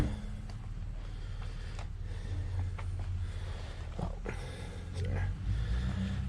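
A neighbor's loud truck rumbles steadily nearby with a deep low-end engine drone, joined by scattered clanks and knocks close by.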